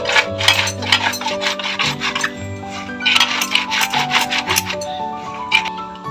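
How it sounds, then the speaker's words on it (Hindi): Green chickpeas are rubbed by hand to split them into dal, producing continuous rough scraping and rasping strokes in quick bursts, close and fairly loud, with a soft musical tone in the background. "इसको हमने सारे रगड़ रगड़ के दाल बना लिया"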